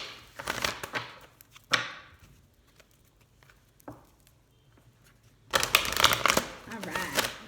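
An oversized oracle card deck being shuffled, with bursts of papery riffling and card slaps separated by quiet gaps, and a loud flurry of shuffling near the end.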